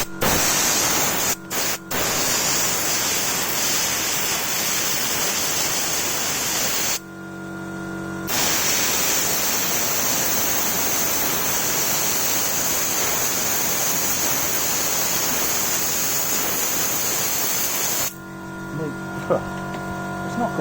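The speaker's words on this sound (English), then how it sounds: "It's not great, my compressor isn't really up to the job, but good enough for me." An air compressor drives a garden sand blaster in a continuous loud, even hiss that runs for most of the stretch, broken by a brief pause near the middle and stopping toward the end.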